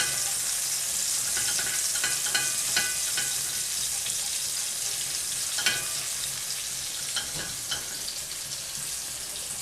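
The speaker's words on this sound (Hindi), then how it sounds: "लहसुन को थोड़ा हम अच्छे तरीके से फ्राई कर लेंगे।" Grated garlic frying in about two spoons of oil in a kadai for homemade pizza sauce, a steady close sizzle with scattered crackles and stirring clinks throughout.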